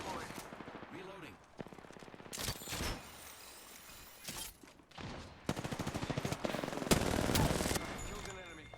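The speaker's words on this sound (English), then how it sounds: "Shots fired." Gunfire in a video game: rapid automatic bursts of shots crackle in several volleys, separated by short pauses, with a metallic reload clatter and game voices talking between.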